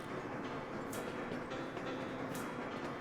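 Coal train rolling along in the Sweet Transit video game, a continuous dense rumble with faint rhythmic clatter, steady and unbroken throughout.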